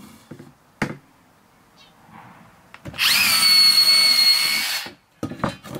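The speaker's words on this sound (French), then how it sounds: "Vous ne perdez pas de vue qu'il faut percer cela dans dessous aussi." A power drill bores holes in wood while a chicken coop and laying nest are being built, whining loudly for about two seconds after a few knocks and handling sounds, then stopping.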